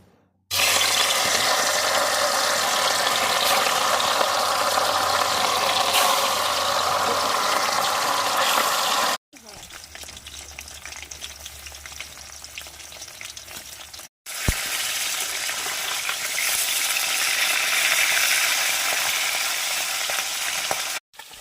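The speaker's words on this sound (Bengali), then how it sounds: "তেলটা অনেকটা গরম হয়ে গেছে মাছগুলো আবার একে একে দিয়ে দেবো" Rohu fish pieces fry in hot mustard oil in a wok, a loud dense continuous sizzle that cuts out briefly twice and then resumes just as strongly.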